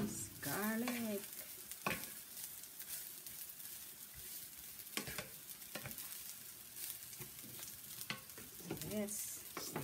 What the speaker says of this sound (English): Yes, stir our shrimp.